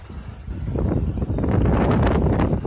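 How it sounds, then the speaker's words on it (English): Strong wind gusts during a California wildfire in San Bernardino County roar and buffet the microphone in a loud, continuous rumble that builds and stays heavy throughout. "big huge gust of winds going everywhere."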